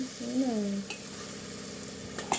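Stirring a pot of pappu charu, a lentil sambar with drumstick pieces, gives soft scraping and clinking sounds; a brief voice and a child-like tone rise early, with a small utensil tap near the end.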